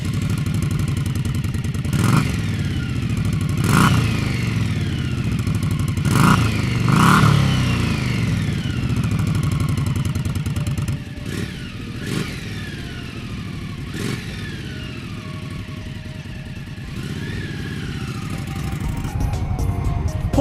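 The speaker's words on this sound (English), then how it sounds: "Now here's a little taste of what the stock pipes sound like." A 2016 Indian Scout motorcycle on stock exhaust pipes is revved repeatedly, with sharp throttle blips climbing and dropping over a steady, close, throbbing idle.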